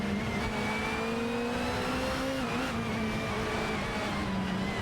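Peugeot race cars in a racing video game drone and rev steadily, their engine tones rising and shifting as several cars run close together, loud and continuous with no talking.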